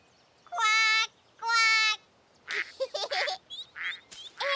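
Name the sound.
person imitating a duck quacking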